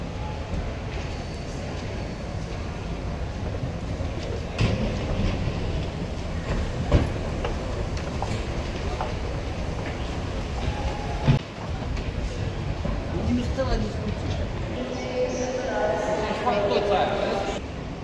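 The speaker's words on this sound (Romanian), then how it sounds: "pentru a ajunge repede în centru, trebuie să luăm un tren expres, Clia Express se numește" Steady rumble and rattle of the KLIA Express airport train in Kuala Lumpur, heard from inside a carriage as it runs, with a continuous low roar, occasional clacks and faint voices in the background.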